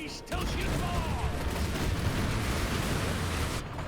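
Ship cannons in an Assassin's Creed Black Flag naval battle boom in a dense, continuous barrage after a brief quiet start, loud and rumbling with layered blasts.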